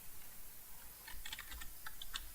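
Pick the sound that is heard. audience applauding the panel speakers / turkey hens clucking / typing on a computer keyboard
typing on a computer keyboard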